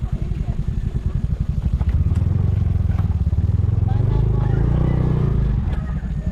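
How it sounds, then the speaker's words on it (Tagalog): A motorcycle engine chugs close by, rumbling steadily as the bike rolls into a parking spot, with people talking over it. "Pasok po yung motor."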